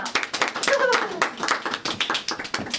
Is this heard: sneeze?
no